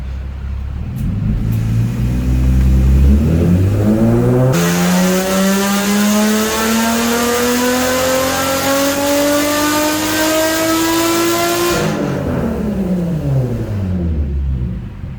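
A loud Infiniti G37 engine with fueling problems revs steadily upward through the gears on a dyno, holding a long rising whine before dropping back to idle; no talking.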